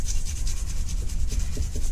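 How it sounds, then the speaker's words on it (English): A metal tool scrapes and rubs across a part of a Holley 390 cfm four-barrel carburettor during cleaning, making a close, continuous gritty rasping in repeated strokes with no talk. "I'm going to give it a little bit of a scrape with a metal, one of these."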